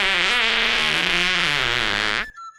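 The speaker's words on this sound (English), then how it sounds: "Suddenly, another fart exploded." A single drawn-out fart sound effect, loud and buzzy with a wavering pitch, lasts about two seconds and then cuts off abruptly into near silence.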